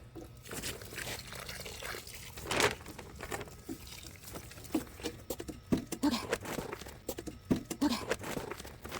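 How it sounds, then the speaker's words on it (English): Water splashes and patters onto damp, partly frozen seed-starting soil during winter sowing, a string of soft wet taps and crunches at low level with no talk. "I'm going to put a little bit more water in there."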